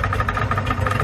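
A speedboat engine runs during a search on Liyu Pond, a steady mid-pitched motor hum with a regular pulsing throb, close and continuous, with no voices over it.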